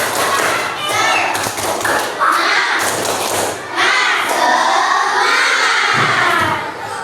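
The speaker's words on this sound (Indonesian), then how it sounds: "Oke, coba tepuk semangat." A class of schoolchildren does the tepuk semangat chant in an Indonesian classroom, shouting together in loud bursts with rhythmic claps and thumps, continuous and energetic throughout.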